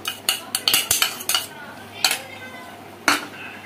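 A spoon stirs payasam (sweet rice-flake pudding with almond powder) in a metal pot, giving a quick series of clinks and scrapes against the rim, then two more spaced knocks, close and fairly loud.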